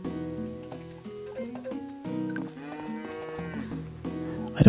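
Cattle mooing on a farm in the Story of Seasons: Friends of Mineral Town video game, several long drawn-out game cow calls in succession over soft background music, with no talking.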